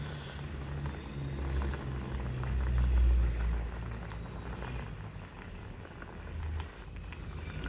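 Radish boiling in a pot of water for paksiw na bangus, a steady close bubbling and gentle rolling simmer that goes on throughout without talk.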